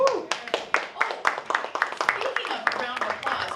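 Audience applause for panel speakers arriving at the front of a digital strategies symposium, a dense stretch of sharp claps from a smallish crowd, with a voice and cheering mixed in.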